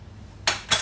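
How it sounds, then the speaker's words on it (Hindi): Pots and utensils clink twice in a home kitchen as a pressure cooker of vegetable pulao is opened, two short bright metallic knocks close by over a quiet background. "ये पुलाव का जो कुकर है ये खुल गया है"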